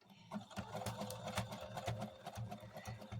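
A sewing machine runs a zigzag stitch on a quilted placemat, a steady rapid mechanical chatter with rhythmic needle thumps, close and fairly quiet, with no talking.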